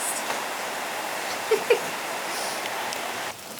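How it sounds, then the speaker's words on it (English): Heavy rain falling outside at a Fiji resort, a steady broadband hiss with no breaks, carrying a few faint brief knocks partway through before thinning slightly at the end. "It's raining outside. Like a lot."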